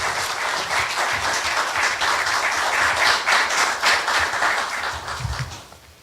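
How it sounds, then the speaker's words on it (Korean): An audience claps vigorously and continuously to welcome a university president at a formal forum, with a dense wash of applause that fades out near the end. "큰 박수로"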